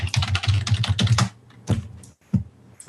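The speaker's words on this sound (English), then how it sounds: "Your keyboard is very loud" Rapid, loud clacking of keys on a computer keyboard in quick bursts, then a pause and a few scattered keystrokes.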